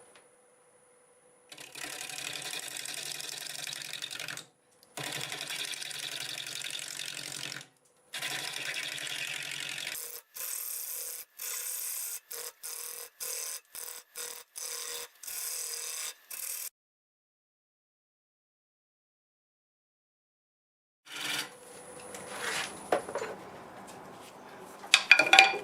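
A wood lathe spins a walnut bowl blank at about 700 RPM while a 5/8 bowl gouge cuts it, giving long steady scraping runs and then choppy intermittent cuts, with a quiet gap before a rougher burst at the end.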